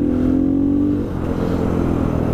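A 2017 KTM 500 EXC-F enduro motorcycle engine, Euro 4 spec, revs loudly and close by in one sustained rising pull that then settles into a rough, steady drone.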